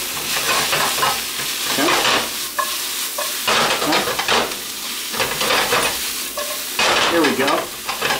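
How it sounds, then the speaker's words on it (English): Broccoli rabe with garlic sautéing in a pan, a loud steady sizzle broken by repeated scraping stirs, with a few brief words spoken over it. "So now all I'm doing is kind of just sauteing the broccoli rabe"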